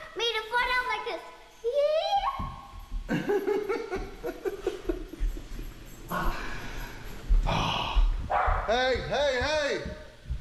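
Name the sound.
dogs barking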